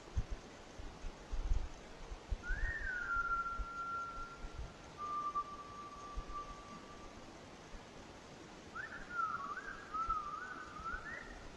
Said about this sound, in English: You can hear what sounds like distant whistling in the woods behind her home